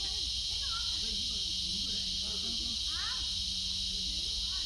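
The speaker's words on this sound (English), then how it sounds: "cicadas making that loud noise." Loud, steady cicada buzzing fills a park, a constant high drone with faint chatter and other sounds underneath.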